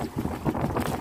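Strong wind buffeting the microphone in heavy rumbling gusts at sea, with the low drone of a boat engine beneath.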